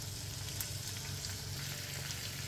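Grated carrots frying in a pan for a meat pie filling, a soft steady sizzle with faint crackles and no talking.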